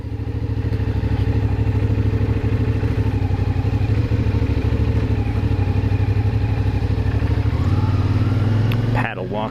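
CFMOTO 450SS motorcycle engine running steady and close during a braking stop practice, with a strong continuous drone that drops in pitch near the end as the bike slows, followed by a brief clatter.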